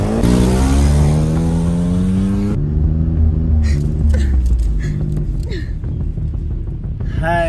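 A car engine revs loudly and accelerates as the vehicle pulls away, a strong rising rumble with shifting tone, close and dominant throughout.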